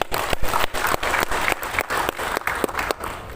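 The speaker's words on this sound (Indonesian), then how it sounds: "Tepuk tangan untuk kita semua." An audience claps for a speaker at a public gathering, loud and fairly close, a dense burst of applause with sharp rhythmic accents and no speech over it.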